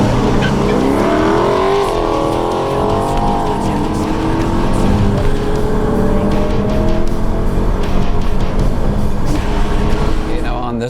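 A Dodge Challenger R/T 5.7 with long-tube headers and a Charger SRT 392 launch in a drag race, tires briefly spinning as loud V8 engines roar and rise through the gears close by, with talk over the noise.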